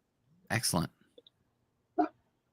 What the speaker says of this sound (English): I have 5 dogs. They're pretty quiet. One just made a noise.